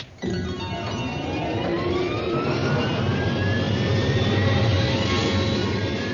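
Submarine turbines spin up in an animated series, Nadia and the Secret of Blue Water, with a sudden loud onset and then a sustained, rising jet-like whine that builds steadily over a dense roar.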